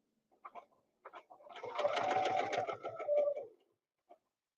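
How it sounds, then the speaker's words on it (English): A sewing machine running quarter-inch stitching on a quilt, a steady close whirring burst of rapid stitches lasting about two seconds, bracketed by a few short handling clicks before and a single tap after. "now I'm going to come here and I'm going to do 1/4 inch stitching away from everything"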